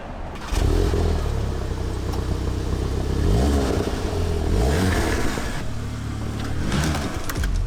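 A VW MK7.5 GTI revs through an XFORCE catback exhaust, giving a loud, close, sustained exhaust roar with a few quick throttle blips rising and falling in pitch.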